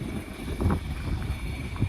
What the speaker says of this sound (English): This wind is just blowing so hard up this creek.